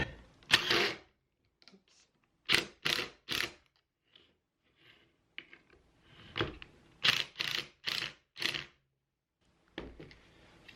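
A screwdriver or drill tightens screws into the back of a corded-drill holder on a French cleat storage rack, giving several short bursts of whirring and ratcheting, close and fairly loud, separated by quiet pauses.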